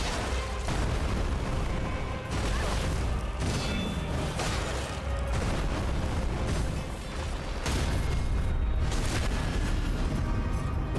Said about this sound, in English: an extra explosion there